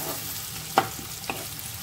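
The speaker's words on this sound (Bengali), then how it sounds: "ভেজে নেব পেঁয়াজটা।" Onions fry in oil in a pan for a peas and paneer curry, giving a steady sizzling hiss with a couple of brief stirring clicks and no talking.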